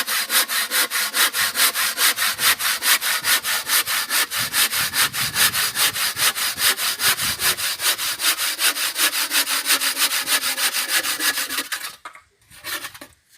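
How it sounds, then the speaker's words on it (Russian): An ordinary wood handsaw cuts through a block in steady, rapid back-and-forth strokes, a close, loud rasping rhythm that continues for about twelve seconds before the cut finishes and the sawing stops. "Берется обычная пила по дереву. Ножовка."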